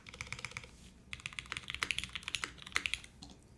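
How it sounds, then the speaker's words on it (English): Typing on a gasket-mounted ORI CLS-3//88 keyboard with an aluminum plate, Cherry stabilizers and no foam, heard as close, bright, irregular keystroke clacks in quick bursts with a short pause partway through. "Let's see what this keyboard sounds like."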